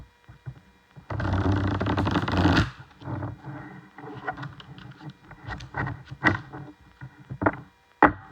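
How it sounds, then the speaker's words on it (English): Tarot cards are shuffled close by: a dense riffling burst for about a second and a half, then scattered softer slides, taps and flicks of cards, with no talking. "shuffling the cards once more."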